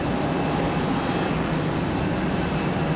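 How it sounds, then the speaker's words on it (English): An Alaska Airlines jet departing Raleigh-Durham airport at night, heard as a steady, loud broadband engine roar that holds evenly throughout with no voices. "last departure of the night, Alaska Airlines off to Seattle."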